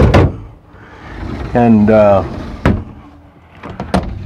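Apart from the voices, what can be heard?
drawers being opened in RV slide-out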